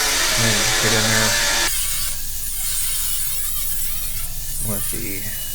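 A zip cut tool slices through sheet metal on a replica Sdkfz.222 scout car, a loud abrasive whine that shifts in pitch and eases off as the cut is worked, with brief faint talk underneath.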